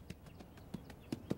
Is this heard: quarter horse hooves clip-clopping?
yes